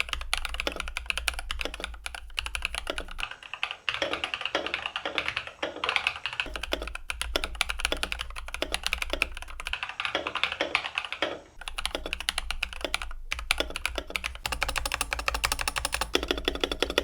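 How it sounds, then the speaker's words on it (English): Steady, fast typing on a stock YUNZII YZ75 mechanical keyboard with a south-facing PCB, crisp clacking keystrokes with brief pauses, close and continuous throughout, no voices. "Let's listen to the stock typing test."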